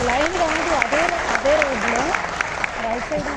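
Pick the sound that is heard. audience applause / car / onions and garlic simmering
audience applause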